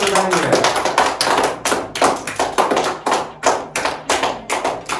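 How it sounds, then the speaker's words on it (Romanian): Children clap loudly in rhythmic unison for Daniel at his ninth birthday surprise, a fast, even series of close, sharp claps that keeps going, with voices under it at the start. "Și acum aplaude."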